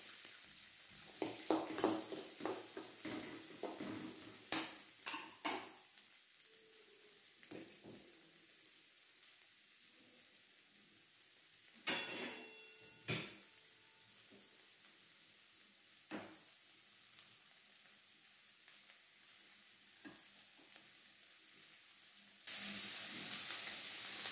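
Onions sizzle and fry in a pan for a pirandai chutney, with scattered clinks and scrapes of a spoon stirring them at close range and no talk.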